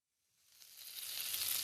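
Chopped mirepoix dropped into a heated pan on a stove burner at medium, a bright sizzle rising from silence and swelling steadily louder over a second and a half.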